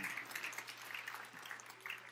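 Church congregation clapping during a sermon, a soft continuous patter of many hands at a distance with a low hum underneath.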